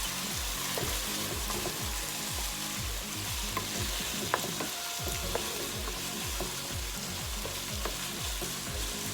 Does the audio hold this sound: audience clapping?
no